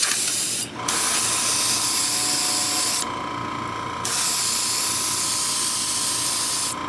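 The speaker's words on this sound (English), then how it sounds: "Let us spray this locomotive down." Spray paint hissing from a can onto a model PRR SW1 locomotive for weathering, loud steady close bursts separated by short pauses.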